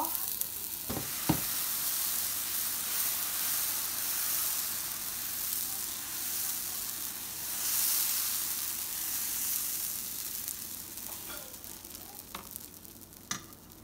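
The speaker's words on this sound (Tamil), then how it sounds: "அதுக்கு பிறகு தோசை மாவை விடுங்க" Dosa batter sizzling on a hot pan, a continuous frying hiss with a few faint clinks of a utensil, close and fairly quiet.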